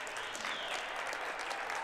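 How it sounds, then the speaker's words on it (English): A home crowd at a girls' high school basketball game claps steadily in a dense, continuous round of applause filling the gym. "this home crowd will clap it up"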